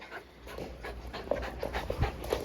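Dogs pant and shuffle close by in a home during play, a steady rhythmic panting with faint soft thumps and no talking.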